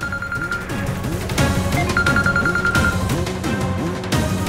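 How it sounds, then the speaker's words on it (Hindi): A telephone rings loudly and steadily in a dramatic indoor scene, its repeating electronic ring pattern cycling several times with no voices over it. "ये जरूर डैनी के बॉस का फोन है, एक बार प्लीज इसे उठा लीजिए"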